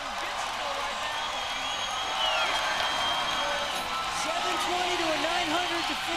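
Dense, steady roar of a large crowd cheering at an X Games inline skating event, filling the whole stretch and swelling slightly partway through, with an announcer talking over it.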